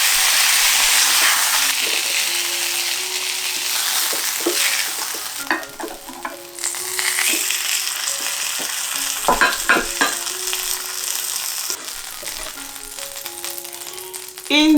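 Onions drop into a caramelized pan with leftover sausage oil, a loud rushing sizzle that settles into steady frying, punctuated by clinks and scrapes of a utensil stirring.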